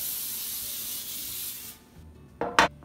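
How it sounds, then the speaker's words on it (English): A can of baking spray hisses in a long continuous burst onto a baking sheet, then stops, followed by a couple of short close spritzes in a quiet kitchen. "Now you want to spray your baking sheet with some baking spray."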